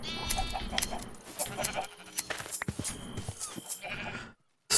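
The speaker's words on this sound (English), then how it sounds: "Sheep." Repeated bleating of blocky Minecraft sheep among clattering game sounds and footsteps, fairly close and steady before cutting to a brief silence and a final burst.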